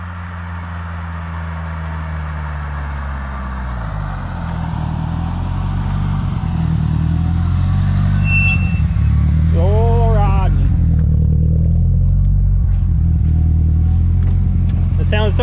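An 1100whp Subaru Forester STI roars past on a street, a loud engine note that climbs and shifts as it approaches and passes, then fades into a deep rumble, with a voice briefly heard in the middle.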